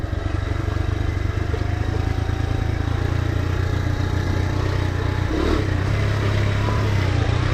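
A Honda CT motorcycle engine pulls steadily in first gear on a steep trail, a loud, close, continuous mid-pitched drone with rattling clatter and a slight change in engine tone partway through.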